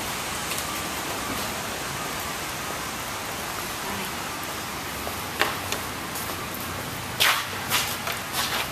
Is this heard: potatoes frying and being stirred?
no